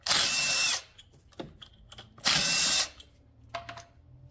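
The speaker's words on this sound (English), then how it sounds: "I prefer to use a T30 on a drill" A power drill with a T30 Torx bit whirs in two sustained bursts, each under a second long, driving screws on a Mercedes E350, with clicks and light tool handling in the quiet gaps between.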